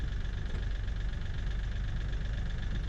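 A Kioti tractor's diesel engine runs at a steady idle nearby, a constant low rumble with a faint higher whine and no voices.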